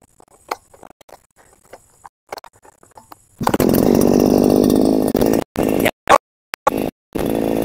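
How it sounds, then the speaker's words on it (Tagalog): Grass cutter engine starting: quiet clicks and pulls, then the two-stroke motor catches and runs loud and buzzing, cutting out and restarting in short bursts toward the end. "bubuhayin ko na po itong makina. Ayan ito, grass cutter,"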